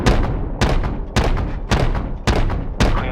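Heavy cannon impacts from an AC-130 gunship in Call of Duty: Modern Warfare Remastered, five deep booming thuds at roughly half-second to one-second intervals, loud and close, each with a rumbling tail.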